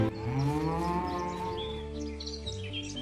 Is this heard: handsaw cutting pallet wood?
no